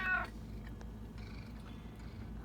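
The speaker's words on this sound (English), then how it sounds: "Here's my gray cat." A gray cat gives a single short meow at the start, close by, followed by a low steady hum and faint indoor background.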